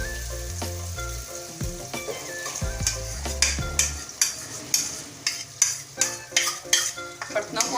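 Chicken sizzles loudly in a pot as tomato paste is stirred in for Sindhi biryani. A spoon scrapes in rhythmic strokes through the frying, and there is no talking.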